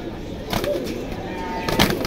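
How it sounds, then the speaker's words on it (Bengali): Low, soft cooing from caged Koskosa pigeons, a couple of rolling calls heard close by while someone speaks. "কসকসা কবুতর"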